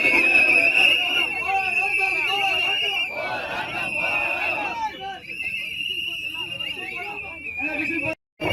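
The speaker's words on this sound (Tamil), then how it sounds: "விசில் அடித்து ஆர்ப்பாட்டத்தில் ஈடுபட்டனர்" Protesters at a farmers' demonstration in Tamil Nadu blow whistles, producing a loud, steady, shrill whistling that persists throughout, mixed with crowd noise and voices.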